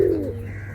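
A pigeon from a high-flying breeding pair gives a short, low coo near the start, close up, before fading into a steady background hum.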